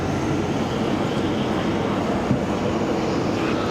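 A jet airliner with GE engines at Raleigh-Durham airport, a steady loud broadband engine roar heard from outside, sustained without a break and no voices.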